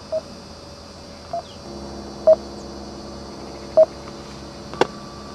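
Anycool T728D mobile phone keypad dialing: several short, evenly spaced electronic beeps stand out clearly over a faint steady hum, then a brief sharper click near the end, with no voices.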